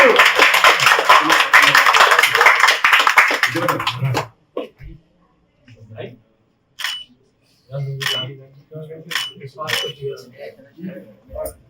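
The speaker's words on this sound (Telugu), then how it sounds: "చప్పట్లు కొట్టండి" At the opening of a cooperative urban bank branch in Santosh Nagar Colony, a crowd claps, a dense burst for about four seconds, followed by quieter scattered sounds and people talking.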